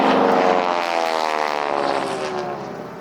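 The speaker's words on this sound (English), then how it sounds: "I'll let you hear the engine here." A propeller-driven aerobatic aircraft flies past at the Warbirds Over Monroe 2024 airshow, its engine a loud, throbbing drone that slowly drops in pitch and fades a little as it passes.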